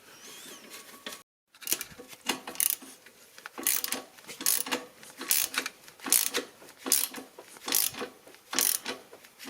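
A ratchet wrench tightening a clamp on the engine mount of a Mercedes W203, clicking in repeated, rhythmic bursts of close, crisp ratcheting strokes after a short pause near the start.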